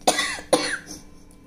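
Two sharp coughs about half a second apart, close and fairly loud, from someone irritated by freshly ground chilli powder in a home kitchen.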